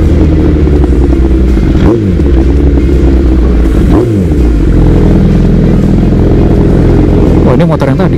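A Honda CBR 1000 SP superbike roars close by in continuous, loud, heavy engine noise, with a couple of quick pitch swoops as the revs change.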